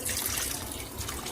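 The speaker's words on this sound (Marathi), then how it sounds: "आता आपण थोडं पाणी टाकूया" Water poured into a pressure cooker holding dal with turmeric and salt, a steady close trickle and splash running continuously without pause.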